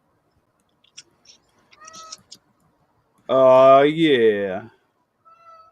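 A house cat meows once, loud and drawn out with a rising-falling pitch, following a few soft background noises, with a person speaking briefly around it indoors.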